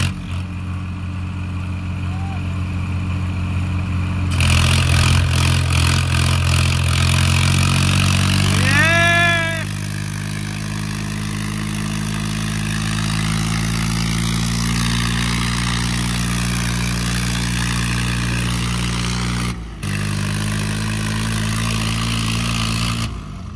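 Swaraj and John Deere tractor engines run at a steady, loud idle with a deep droning hum, and one engine revs up sharply midway before settling back. Faint voices sit beneath the engine noise.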